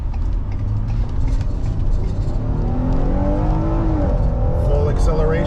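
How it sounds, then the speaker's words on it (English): A 2015 Ford Explorer police interceptor with all-wheel drive accelerates hard on a wet road in the rain, its engine note climbing steadily and loud throughout, with tyre hiss and a voice speaking over it. "Full acceleration."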